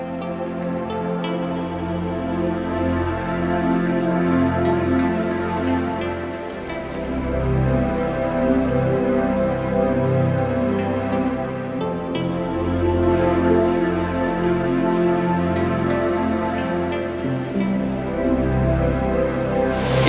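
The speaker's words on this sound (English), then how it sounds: "The rain's coming down harder too, I noticed." Heavy rain falls outdoors at Minnehaha Falls in Lakemont, a dense, continuous wash of water noise that stays loud and steady throughout, with no voices.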